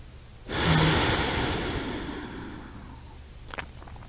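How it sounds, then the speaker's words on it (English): A long, deep breath drawn in and let out through the nose during a gentle yoga session, close and soft, with a faint sharper sniff near the end. "We just keep breathing in and out through the nose."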